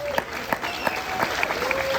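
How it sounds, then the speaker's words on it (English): A luncheon crowd at a Hispanic Heritage event giving a round of applause, brisk clapping from many hands with a few louder claps standing out, continuous with faint voices mixed in. "let's give them all a nice round of applause"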